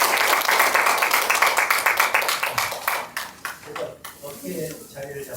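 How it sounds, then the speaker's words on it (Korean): Audience applause welcoming a film director to the podium at a university academic symposium, a dense burst of many hands that thins out after about three seconds, giving way to scattered claps and a voice speaking. "뜨거운 박수로 맞이해 주십시오."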